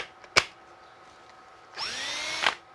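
A DeWALT cordless drill running on a DCA1820 battery adapter whirs up in one short burst of about a second, close and fairly quiet, after a sharp click; no talking.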